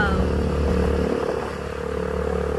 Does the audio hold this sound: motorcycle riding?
yes